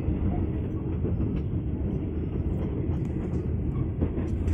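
A full KA Motis Selatan passenger train runs non-stop from Jakarta to Bandung, giving a constant loud rumble and rattle of wheels on the rails, heard steadily from inside the carriage.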